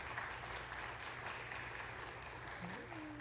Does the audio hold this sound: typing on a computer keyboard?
no